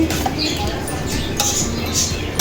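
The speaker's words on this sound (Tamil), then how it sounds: "கொஞ்சம் கிண்டி விட்டுக்குவோம்" Vegetable rice is stirred in a pan for fried vegetable rice, giving steady scraping and clinking of a utensil against metal throughout, with faint speech underneath.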